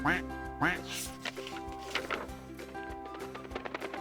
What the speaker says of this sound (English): Duck quacked to Dog.